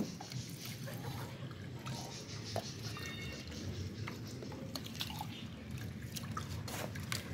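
Tap water runs steadily while rice is washed by hand in a home kitchen, a continuous close trickle with small drips and splashes throughout.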